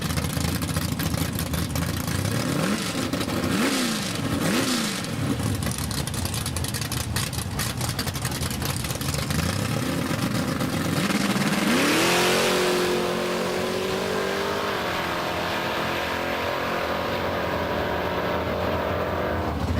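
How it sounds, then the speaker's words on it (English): Drag race at a Big Block Ford event between a car and a pickup truck: engines idle and rev in bursts, then launch into a long rising roar that fades down the strip, heard from trackside at a distance with crowd ambience. "Brad Nixon in the near lane, Martin Egbert on the outside in the pickup truck."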